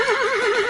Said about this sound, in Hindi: पहली बार सीखते समय ही वह पूरी गति से घोड़े को दौड़ाने लगते हैं